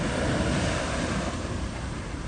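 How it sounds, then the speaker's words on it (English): Waves roll in at a beach under a strong, steady roar of wind buffeting the microphone, with no voices and no breaks. "Right now, just chilling on the beach."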